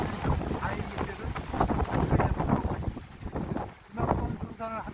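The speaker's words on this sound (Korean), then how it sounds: "바람이 너무 불어가지고 오늘 날씨는 춥지는 않은데 좋은데 바람이 너무 불어가지고" Strong wind gusting on the Uisangbong trail of Bukhansan, roaring steadily and buffeting the microphone, with a brief lull near the end; a voice talks over it.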